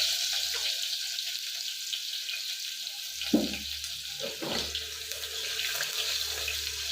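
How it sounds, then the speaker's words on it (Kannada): Chopped onion dropped into hot tempering oil for a jackfruit seed palya, giving a steady close sizzle with a few louder crackling bursts and clinks of stirring. "ಈಗ ಒಗ್ಗರಣೆಗೆ ಈರುಳ್ಳಿ ಹಾಕ್ತೇವೆ"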